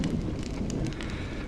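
Rain falling in the video game Honkai: Star Rail, a steady, even hiss of drops with a soft low rumble underneath, continuous and without voices.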